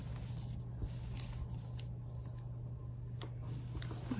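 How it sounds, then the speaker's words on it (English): Scissors snip through paper planner pages in a quiet room, with a handful of short, faint cuts spread across a few seconds over a steady low background hum. "Okay, these are gonna need some trimming."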